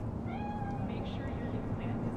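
A cat meows in Cyberpunk 2077, a thin drawn-out cry followed by shorter mewing calls, faint over a dense ambient background.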